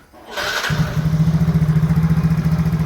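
A Yamaha Mio J scooter engine cranks briefly, then catches and settles into a steady, close, loud idle with an even rapid pulsing throb.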